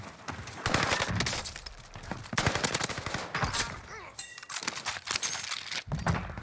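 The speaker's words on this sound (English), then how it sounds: "I don't even know where I'm getting shot from, bro." Dense, continuous gunfire from the video game Warzone rattles through an online match, with overlapping bursts and distant shots blending into a loud, busy battle din.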